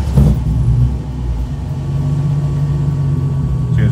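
A car with a cold-start problem runs loud and steady at close range after a brief burst at the start, its low engine rumble holding an even, slightly revving drone with no talk over it.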